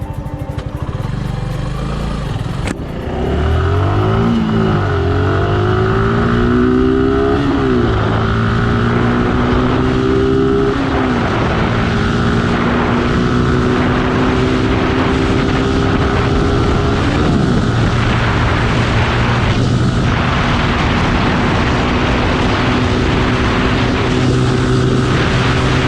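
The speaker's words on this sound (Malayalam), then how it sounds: "നമുക്ക് ബൈക്കിൻ്റെ 0 to 100 ഒന്ന് ചെക്ക് ചെയ്ത് നോക്കാം." A Suzuki Gixxer SF 155 motorcycle accelerates from standstill toward 100, its engine note climbing and dropping through several gear changes, loud and continuous under heavy rushing wind noise.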